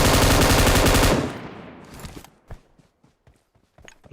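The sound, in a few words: M249 machine gun firing in a video game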